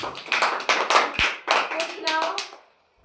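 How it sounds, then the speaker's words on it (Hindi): Children clapping hands together after reciting a poem in a classroom, a few loose bursts of claps with brief pauses between them, close and lively, ending in quiet. "ताली बजाओ सब"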